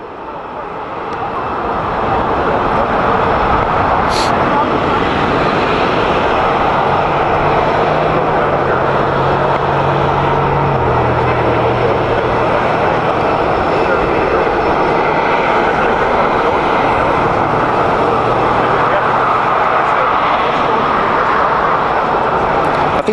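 A large presidential jet at West Palm Beach swells into a loud, sustained engine roar after a quiet opening and holds it steadily throughout, with a low drone underneath.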